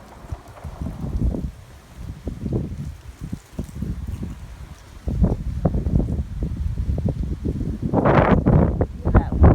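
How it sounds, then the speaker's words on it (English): Wind gusts buffet the microphone outdoors in the aftermath of Hurricane Matthew, giving uneven low rumbling bursts that strengthen toward the end, with faint rustling in the background. "Pretty windy out here today."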